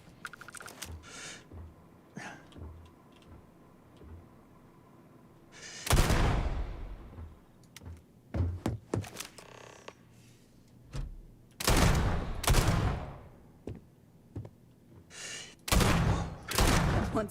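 Gunfire in the space game Starfield: irregular bursts of loud sharp shots in several clusters, separated by quieter stretches of low background.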